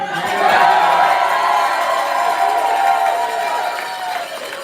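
A large rally crowd applauds and cheers for a candidate's wife, a loud, sustained wash of clapping and shouting that stays steady before easing slightly at the end.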